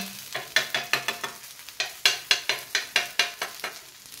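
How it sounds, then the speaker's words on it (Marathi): Soybean and moong dal snack roasting in a pan over medium flame, a spatula scraping and stirring in quick rhythmic strokes over a soft sizzle, close and moderately quiet. "हा नाश्ता आपल्याला एका बाजूने छान खमंग असा भाजून घ्यायचा आहे"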